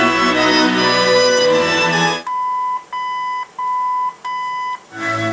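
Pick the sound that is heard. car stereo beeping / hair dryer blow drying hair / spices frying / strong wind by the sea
car stereo beeping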